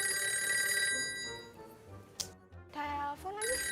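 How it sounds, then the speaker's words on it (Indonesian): A telephone bell rings in sharp, high metallic bursts, loud and close, with a short pause midway before ringing resumes. "Telepon lagi."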